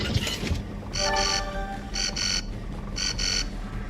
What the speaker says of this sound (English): I hear the alarm.